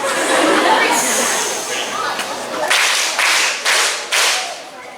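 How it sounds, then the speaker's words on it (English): A beginning school band group claps four quarter notes in unison, the sharp group claps landing at an even beat, loud and near over a noisy room with some chatter. "can you please clap 4 quarter notes for me?"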